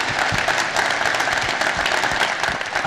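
Crowd clapping for Michigan State and the Detroit Economic Club at a panel event, a continuous, fairly loud wash of many hands with no pause.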